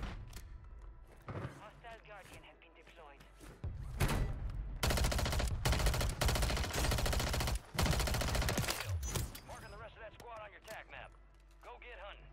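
Rapid automatic gunfire from Call of Duty Warzone on Rebirth Island, loud sustained bursts through the middle with scattered shots and mechanical clicks around them, under a player's voice talking.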